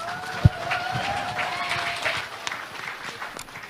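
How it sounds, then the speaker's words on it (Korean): An audience at a party convention debate applauds to welcome a speaker, a moderate, steady patter of clapping from a crowded hall with one sharp thump near the start. "여러분 큰 박수로 맞아주시기 바랍니다."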